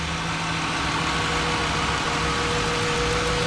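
An old car's engine idles steadily after a repair, a loud continuous low rumble with a faint hum running through it, and no one talking.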